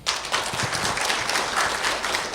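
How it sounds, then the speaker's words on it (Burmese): An audience at a 2016 talk in New Zealand claps together, a brisk, dense burst of hand claps that holds at a fairly even level for a couple of seconds with no voices over it. "ကျေးဇူးတင်တဲ့ညီကိုနဲ့လက်ခုပ်တီးပေးပါအောင်"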